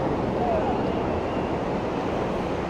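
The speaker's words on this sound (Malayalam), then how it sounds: "ബീച്ചിൻ്റെ സൈഡാണ് നമ്മളവിടെ നിൽക്കുന്നത്" Wind and surf wash steadily at a Pacific Ocean surfing beach in San Francisco, a continuous broadband roar with no distinct breaks or voices.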